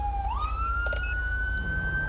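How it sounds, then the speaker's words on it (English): Police car siren in the game GTA V with the LSPDFR mod, a single wailing tone that sweeps upward and holds steadily over a low engine rumble, with no talk. "Why is his siren going?"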